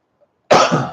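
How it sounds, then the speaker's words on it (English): A single harsh, raspy smoker's cough bursts out after a brief silence, close and loud, trailing off into a rough exhale. "Oh, smoker's cough."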